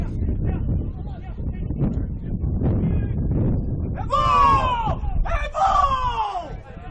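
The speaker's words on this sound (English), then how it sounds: "Very loud shouts from, I think, the Raiders bench for a handball." Low crowd and field noise at a soccer match gives way to two loud, strained shouts from the team bench appealing for a handball, each lasting about a second.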